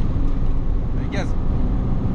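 A Porsche Boxster 986 with a 2.5 engine accelerates hard on the Nürburgring, its steady, loud rumble heard from inside the car, with a brief whoosh midway.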